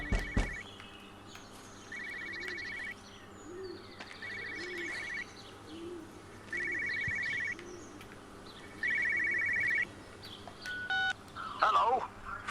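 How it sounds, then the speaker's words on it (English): Telephone ringing in Everybody's Gone to the Rapture, a repeated electronic trill in evenly spaced bursts over an ambient bed of cooing birds and soft hum, growing louder toward the end. "phone ringing somewhere."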